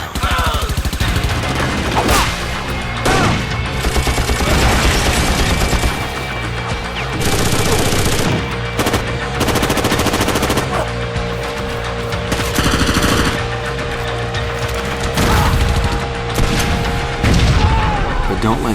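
Heavy machine gun fire and booming blasts from an Xbox action game demo, with loud rapid bursts repeating across the whole stretch, mixed with explosions and music-like swells.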